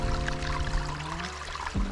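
Water pouring from a water fountain on a hiking trail in Olympic National Park, a close, continuous trickling stream with a brief shift in tone near the end.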